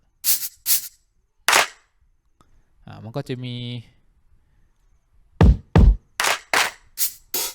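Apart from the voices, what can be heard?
drum plugin sounds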